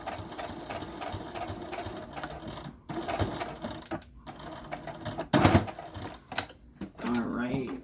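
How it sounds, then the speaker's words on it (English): A home sewing machine runs a straight seam on a fabric book sleeve or tablet cover, its motor whirring in close, rapid bursts with short pauses between runs, under a speaking voice. "it helps you to make sure that you're sewing a straight line."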